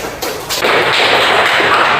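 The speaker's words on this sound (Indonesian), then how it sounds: "Tepuk tangan untuk teman-temannya." A classroom of students bursts into steady, dense applause during a practice Islamic religious lesson in Indonesia, building after a brief start and continuing loud and close with no talk.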